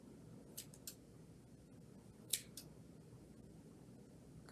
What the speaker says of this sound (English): I'm going to cut those loops. Cut those loops. Cut all those loops.